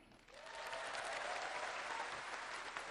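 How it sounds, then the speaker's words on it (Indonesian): An audience at an Indonesian political party's anniversary rally breaks into applause, building quickly from a lighter patter into a sustained, even wash of clapping heard from within the hall. "Tepuk tangannya kurang semangat."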